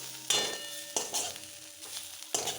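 Food sautéing in hot oil for several minutes, a steady close sizzle broken by repeated louder scraping stirs with a utensil, no voices.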